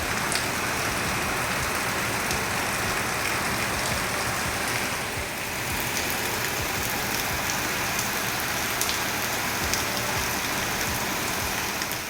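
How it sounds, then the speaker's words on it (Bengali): Heavy, relentless rain from Cyclone Dana falling outside: a constant, even hiss of downpour with scattered drip taps, loud and unbroken for about twelve seconds, no voices. "আজকেও দেখুন বৃষ্টি থামবারই নাম নেই।"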